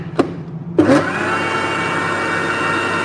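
A kitchen mixer blending dosa batter starts with a couple of clicks and then whirs into a steady, loud motor drone that runs to the end.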